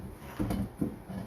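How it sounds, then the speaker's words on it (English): A wooden drawer on an industrial-style nightstand is set back onto its glide, giving two soft, close knocks about half a second apart over a quiet room. "This drawer's not on the glide either. Put it on the glide."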